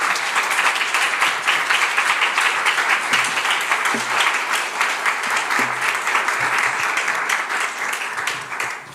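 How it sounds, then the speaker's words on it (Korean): Congregation in a church giving a warm round of applause to welcome a missionary, a full, even wash of clapping that holds steady for several seconds before tapering at the end. "우리 선교사님 나오실 때 큰 박수로 환영해 주시면 감사하겠습니다"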